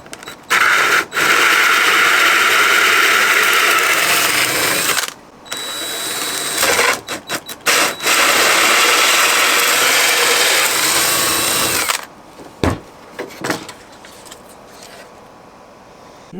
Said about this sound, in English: this is what we're going to use to drill these two sound holes.